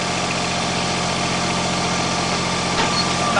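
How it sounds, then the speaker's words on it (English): A backhoe engine runs at a steady, loud, droning idle while the boom is raised with a quick pin, and the note stays even throughout with no talk. "Raising the boom"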